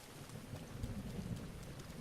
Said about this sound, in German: dieser scheiß Regen